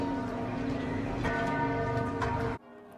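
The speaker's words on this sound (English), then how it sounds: "last night, bells rang out at cathedrals across France" Cathedral bells ring out across France in honor of Notre Dame after its fire, a dense, resonant peal of overlapping strokes that sounds steadily, then stops abruptly near the end, leaving faint ambience.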